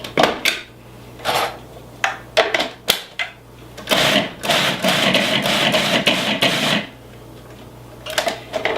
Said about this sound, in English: So let me blend that again.